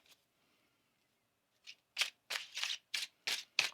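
A tarot card deck is riffled and shuffled in several quick, crisp bursts close to the listener after a quiet pause, each a short papery flutter.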